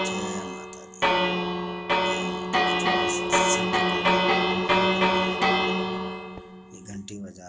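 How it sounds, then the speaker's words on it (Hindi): A temple bell at the Vaishno Devi shrine in the Minecraft video game rings about eight times in a steady rhythm. Each bright metallic clang rings on and overlaps the next, then fades at the end. "ये घंटी बजा रहे हैं हम।"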